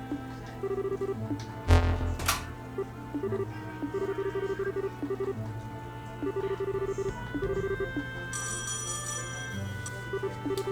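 A telephone rings repeatedly in the Trails in the Sky SC video game, a steady electronic trill pulsing in short regular bursts over looping background music.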